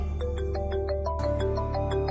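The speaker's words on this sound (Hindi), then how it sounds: "फोन आ गया।" A phone ringtone plays a repeating electronic melody, steady and fairly loud, with no talking over it.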